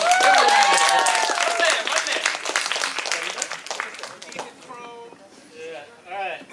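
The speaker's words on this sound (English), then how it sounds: "give him a round of applause" Clapping and cheers from an open mic poetry reading crowd welcoming a performer, loud at first and then fading, with voices talking and calling out over it.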